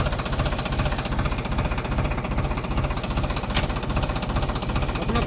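A John Deere tractor stuck on a farm runs its engine in a steady, heavy knocking chug, loud and close with constant low rumble and no clear voices.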